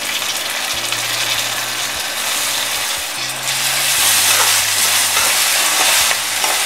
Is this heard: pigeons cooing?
no